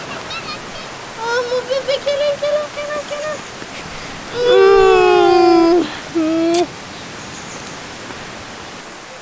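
The Saut de Gouloux waterfall rushes as a steady broadband roar throughout, while voices talk and exclaim above it.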